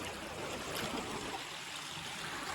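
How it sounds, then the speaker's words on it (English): A hand dips into flowing stream water in Zion National Park, the close rush and splash of the current running steadily and fairly loud with no voices. "you see here I can put my hand in the water"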